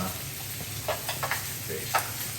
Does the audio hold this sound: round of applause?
no